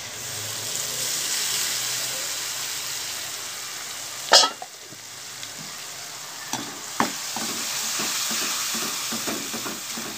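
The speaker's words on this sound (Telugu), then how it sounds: "ఆ టమాటా గ్రేవీని అంతటిని వేసేద్దాము." Tomato gravy frying and being stirred in a pan while pasta is cooked Indian style: a steady low sizzle runs throughout, broken by a sharp scrape near the middle and a string of soft spoon taps and stirring knocks toward the end.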